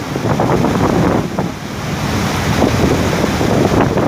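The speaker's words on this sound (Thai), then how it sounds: "ล้นเลยนะครับล้นสันอ่างเลยนะครับ" Heavy rain runoff pouring over the crest of a reservoir on a mountaintop, a loud continuous rushing roar of water mixed with wind buffeting the microphone, close and without a break.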